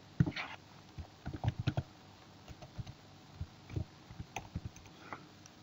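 Keys on a computer keyboard tap out a username and password in short irregular bursts of clicks, close and fairly quiet, with pauses between groups of keystrokes.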